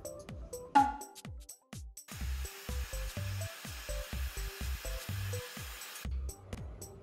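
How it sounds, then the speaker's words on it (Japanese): A hair dryer blows on freshly washed hair in a salon. The steady, close, breathy roar switches on partway through, runs for about four seconds under background music, then cuts off. "これで乾かしていきます。"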